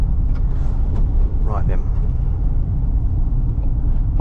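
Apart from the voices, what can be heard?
old van driving on the road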